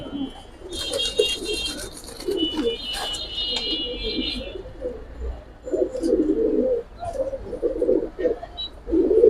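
Giribaz pigeons of an Old Dhaka breeding loft coo in low, repeated throaty rolls close by, with occasional higher chirps and faint voices in the background.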